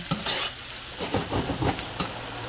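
Ingredients being sautéed and stirred in a hot pan, a steady close sizzle with repeated scraping strokes of a utensil against the pan.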